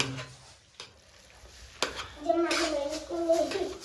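Chow mein noodles and rice are stirred together in a hot pan, giving scraping strokes and a soft sizzle that grow busier in the second half, with a voice briefly audible.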